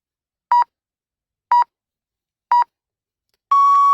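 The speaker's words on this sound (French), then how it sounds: "au bout de 30 secondes, il va y avoir un bip" A workout interval timer sounds after 30 seconds of push-ups: three short, loud, evenly spaced electronic beeps one second apart, then a longer sustained tone, with silence between them.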